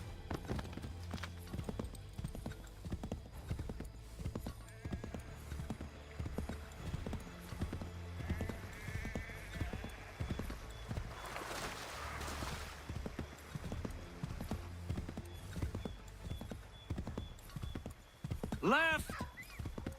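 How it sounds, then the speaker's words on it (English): Horse hooves clip-clop steadily in Assassin's Creed III while a horse snorts and whinnies, and game characters talk over the hoofbeats at low overall volume. "Get back on the horse, Connor."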